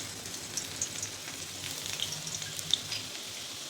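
Garlic frying in hot oil in an iron wok over a full flame, a steady soft sizzle and crackle with small pops, close and continuous with no talk.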